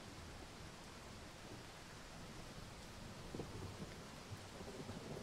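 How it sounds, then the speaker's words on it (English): Steady rain pours down in a continuous hiss while a low rumble of thunder rolls underneath, swelling slightly toward the end; no voices. "The rain continues to fall."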